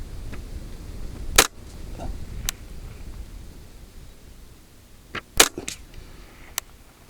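Sharp, isolated reports from a Ruger 10/22 rifle, set up for NRL22 shooting: a crack near 1.4 s, a fainter one at 2.5 s, then two close shots around 5.2–5.4 s and a faint one at 6.5 s, over steady outdoor background noise.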